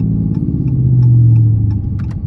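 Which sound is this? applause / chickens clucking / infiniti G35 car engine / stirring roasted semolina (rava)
infiniti G35 car engine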